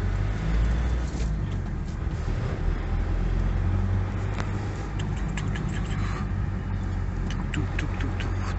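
Slow, congested road traffic in a jam in Vladivostok, a steady low engine rumble from surrounding cars with a few faint higher scrapes and ticks, continuous and fairly loud, no voices.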